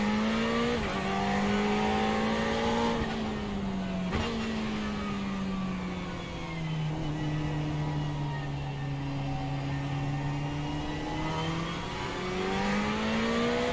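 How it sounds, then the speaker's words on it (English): Ferrari race car on a formation lap at Watkins Glen, heard from the cockpit: a loud, continuous engine drone rising and falling with throttle and gear changes, close and steady, with no talking. "here during the formation lap, just getting my brakes up to temperature, getting tires up to temperature"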